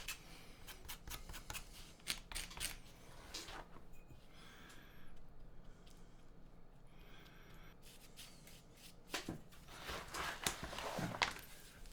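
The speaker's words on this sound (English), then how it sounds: "So first I will scratch the leather." Leather being scratched by hand to roughen it before gluing a zipper on a bag: rapid, dry rasping strokes come in bursts, close and quiet, with pauses and soft breathing between.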